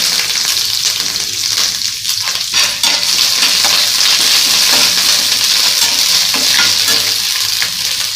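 Curry leaves sizzling loudly in hot oil while preparing tamarind rasam, a dense continuous crackle with occasional stirring, close and without talk.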